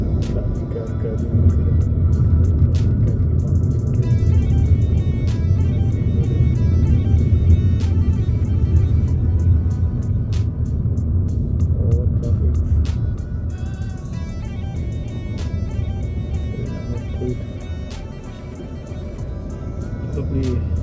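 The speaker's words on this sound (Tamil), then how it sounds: "டிராஃபிக் அதிகமாக கொண்டே இருக்கிறது." Road traffic noise from passing cars, a steady low rumble of engines and tyres that swells and fades slightly, with a person talking over it throughout.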